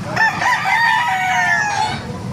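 A rooster crows once at a chicken market in Baliuag, a loud, near, drawn-out call lasting about two seconds over a faint crowd murmur.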